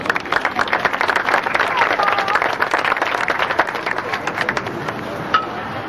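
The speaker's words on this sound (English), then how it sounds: "I'd like for everybody to give them a round of applause." A crowd at a softball all-star game claps steadily for several seconds, the applause dense and even before tapering slightly, with some voices mixed in.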